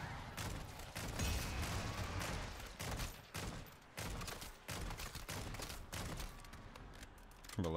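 Rapid, loud bursts of automatic gunfire in the zombie shooter MW3 Zombies, repeated volleys with brief gaps between them, close and dominant throughout.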